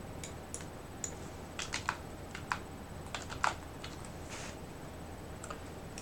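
Typing on a computer keyboard, a quiet irregular patter of key clicks in short bursts with a few louder taps, close but soft against a low hum, with no talking.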